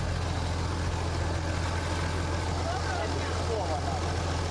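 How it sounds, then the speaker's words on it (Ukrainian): Tractors plough farmland in preparation for sowing on a frontline farm in Ukraine, giving a steady, unbroken low engine drone with a constant hum and rough mechanical texture throughout. "Трактористи орють землю, готуються до посівної."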